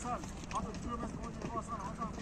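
Racehorse hooves pound in a quick, steady galloping rhythm at a village horse race, moderately close, with people talking and calling over the drumming beats.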